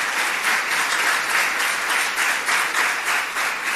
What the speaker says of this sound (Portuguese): Vamos aplaudir forte ao Senhor.